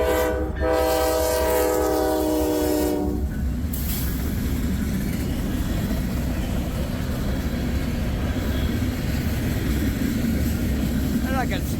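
A BNSF diesel freight locomotive sounds a loud, sustained multi-tone horn for about three seconds, then its heavy engine rumble and rolling freight cars continue close by.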